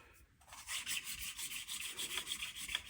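An engine valve is lapped against its valve seat with quick back-and-forth gritty rubbing strokes, close and faint, repeating in a steady rhythm with no talking.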